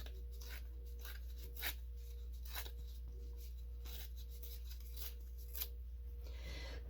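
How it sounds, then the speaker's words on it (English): Paper being torn by hand for a journal envelope page, a series of short dry rips and rustles spaced through the stretch, close and fairly quiet over a steady low hum, with no one talking. "And I want to tear this side also."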